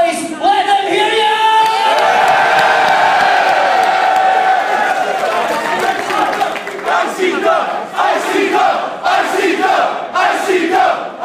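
A wrestling event crowd roars, cheers and shouts in a loud sustained swell, with chanting rhythmic bursts building toward the end, close and filling the hall.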